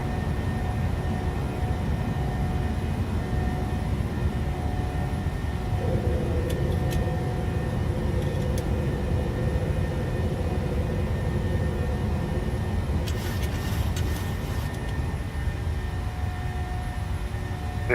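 PMDG Boeing 737-700 jet climbing after takeoff in Microsoft Flight Simulator 2020, a steady loud broadband engine roar and rumble that holds through the whole stretch, with a few faint clicks and no talk.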